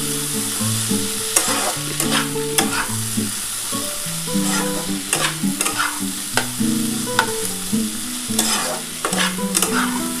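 Bitter gourd is stir-fried with spice paste in a pan, with repeated scraping strokes of a spatula over a constant sizzle, close and fairly loud, in an irregular rhythm.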